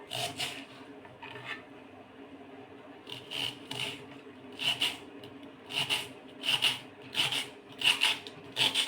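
Spring onions are chopped finely with a knife, making bursts of quick rhythmic cuts that grow steadier and more regular toward the end, close and moderately loud, with no talk.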